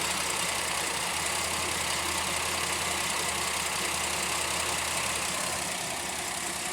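A Pontiac Aztek engine idles warm with a steady, even drone that holds at constant level throughout, with no voices over it.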